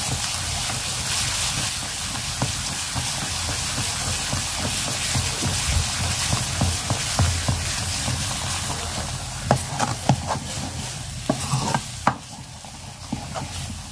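Leafy greens (saag) frying in oil, stirred continuously, giving a loud close sizzle with scraping and tapping of the spatula that grows busier and clatters toward the end.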